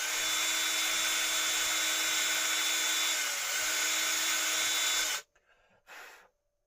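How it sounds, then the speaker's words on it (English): Power drill boring holes while fitting micro monitors, a loud continuous whine held for about five seconds before stopping abruptly, followed by a brief quieter burst. "Going to drill some holes."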